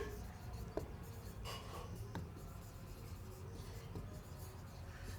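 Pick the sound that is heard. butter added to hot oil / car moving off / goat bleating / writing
writing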